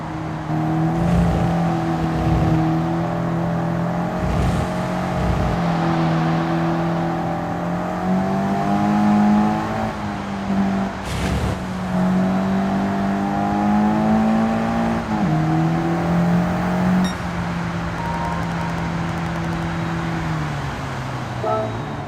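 A race car engine in Gran Turismo 7 holds a steady loud drone with rising and falling pitch as it accelerates, eases off through corners and picks up full throttle again, continuous with no talk.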